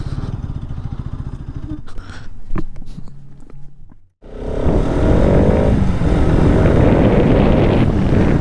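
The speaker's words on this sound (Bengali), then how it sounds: "তো আমি বাইকটো ইয়াতে পাৰ্কিংটো কৰি লওঁ ফাৰ্ষ্ট।" A motorcycle being parked: a close engine idles with a steady beat for about two seconds, followed by scattered clicks and handling knocks, a brief silence, then a loud, continuous broadband rumble to the end.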